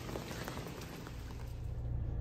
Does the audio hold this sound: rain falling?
yes